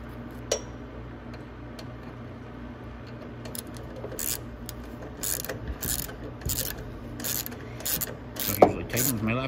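Battery mount being tightened on a Venom 125cc mini jeep, heard as close ratcheting and rubbing clicks in a rhythmic series that grows busier, with a clunk near the end.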